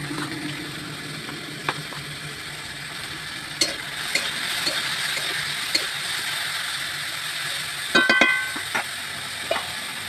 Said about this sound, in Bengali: বন্ধুরা উচ্ছেটা প্রায় ভাজা হয়ে গেছে